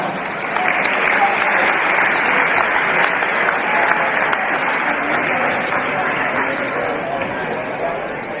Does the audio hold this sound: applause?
yes